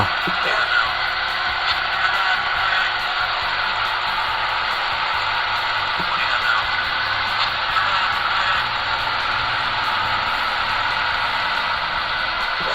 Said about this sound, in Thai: อ่าเสียงสิบเจ็ดมีเสียงเสียงวิทยุเสียงวอ